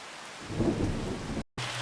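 Steady rain falling on a farm, with a low rumble of thunder swelling in the middle, then a brief dropout before the downpour resumes.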